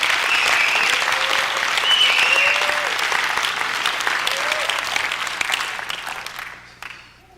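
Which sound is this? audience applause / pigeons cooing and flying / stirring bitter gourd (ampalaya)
audience applause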